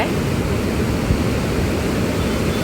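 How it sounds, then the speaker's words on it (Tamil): A steady, powerful roar of the Kaveri River rushing from the open floodgates of Mettur Dam fills the whole clip, loud and unbroken. "காவேரி எப்படி ஓடி வரா பாருங்கள்"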